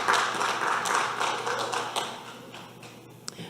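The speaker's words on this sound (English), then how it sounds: "Round of applause." Audience clapping at a small community business meetup, a broad dense burst of applause that holds steady and then thins out toward the end.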